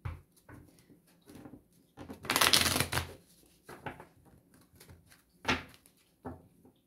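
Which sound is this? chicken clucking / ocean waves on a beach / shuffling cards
shuffling cards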